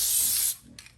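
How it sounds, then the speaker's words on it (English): Spray adhesive mists from a can over a sublimation image for a baby blanket: a steady hiss for about half a second, then a brief second puff, close up. "This is the spray that I use, and I'm just gonna lightly mist it over this image"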